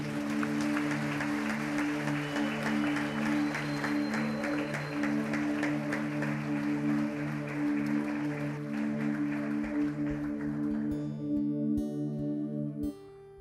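A church congregation claps during a children-led service while sustained organ or keyboard chords play beneath, the rhythmic clapping continuing for several seconds before fading out as the music holds.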